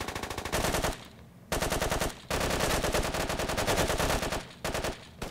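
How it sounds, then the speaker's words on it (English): Machine gun fire in the military shooter Squad, loud sustained automatic bursts with rapid even shots, broken by short gaps between volleys. "That's the machine gun."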